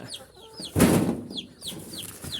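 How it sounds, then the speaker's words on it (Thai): Laying hens on a Thai home poultry farm cluck in short rising calls, several birds close by, with a brief burst of broadband rustle or wing-flapping in the middle and no talking. "ไก่ไข่อยู่ตรงนี้ครับ"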